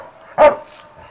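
A border detection dog searching a vehicle during a competition in Lviv region gives one sharp, confident bark, close and loud against a quiet background.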